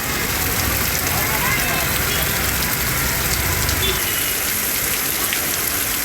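Heavy rain pours down over Tirunelveli city, a dense, steady roaring hiss that stays loud and unbroken throughout.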